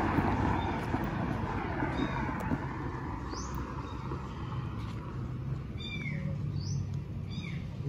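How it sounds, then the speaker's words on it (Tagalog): A cat meowing, a handful of short, faint, high-pitched calls spread over several seconds above steady outdoor background noise. "Uy, pusa. Lah, may kuring."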